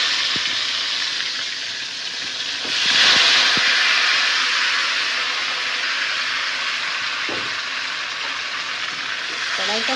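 Tomatoes dropped into hot oil in a kadai set off a steady, close sizzle and hiss that swells briefly near the start, with a few faint clinks of utensils underneath.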